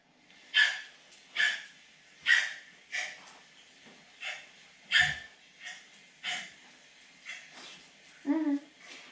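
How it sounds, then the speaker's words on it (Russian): A Staffordshire terrier coughs in a series of about ten short, harsh hacking bursts at a steady rhythm, fairly close by, ending in a deeper retching sound with no talk over it. "Вот то, что вы сейчас видите, это кашель."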